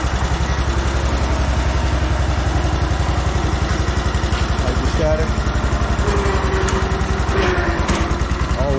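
Small yard tractor engine running at a steady idle close by, a loud, even low putter throughout, with someone briefly speaking over it.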